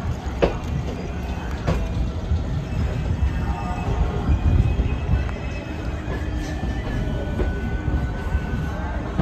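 A Howrah to Digha local train running on a lightly crowded morning, heard from inside: a constant low rumble of wheels on rails with rattling carriages and a few faint squeals, loud and unbroken.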